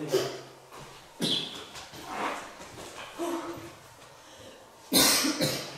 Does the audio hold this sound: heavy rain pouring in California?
no